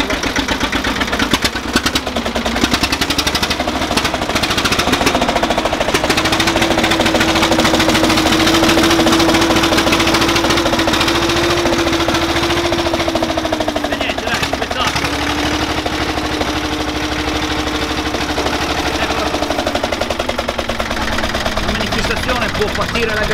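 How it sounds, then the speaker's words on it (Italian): A small vintage agricultural tractor engine runs steadily in low gear at a tractor rally in Val Cembra, a loud, continuous chugging with a slight rise in pitch midway, while a crowd and an announcer can be heard over it. "bravissimo, piccolo trattore,"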